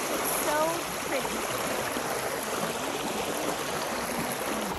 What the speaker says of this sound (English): now we're ending the day here at the river